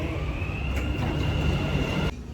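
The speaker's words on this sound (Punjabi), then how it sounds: "ਸਾਡੀ ਟ੍ਰੇਨ ਆ ਗਈ ਹੈ" A Dubai metro train arriving at a station rumbles steadily nearby with a sustained high whine, the noise running loud and then cutting off abruptly near the end.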